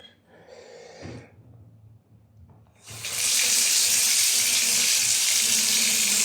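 A hot water tap is turned on after some quiet handling and breathing, then water gushes steadily and loudly into a sink for several seconds.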